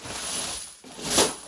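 Brass pieces clatter and jingle as they tumble from under a workbench in a crowded shop, with a brief pause before a second bright burst of clinking.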